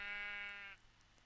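A single sheep in Minecraft bleats once, a short nasal, wavering baa lasting under a second, fairly quiet and alone with no talking over it.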